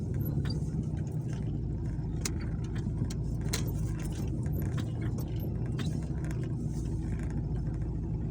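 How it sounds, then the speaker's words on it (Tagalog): Car traffic on San Miguel Avenue near Lourdes Avenue in the Philippines, a steady low rumble of engines heard from inside a vehicle with faint clicks and rattles, no one talking. "Talagang napaka-traffic."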